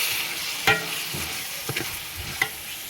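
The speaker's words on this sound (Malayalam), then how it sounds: "എല്ലാം കൂടി നന്നായിട്ട് ഇളക്കി കൊടുക്കണം" Crushed garlic, onion, ginger and green chili being stirred in a pan for chicken dum biryani: a soft continuous sizzle broken by a few distinct spoon scrapes against the pan, close and moderately quiet.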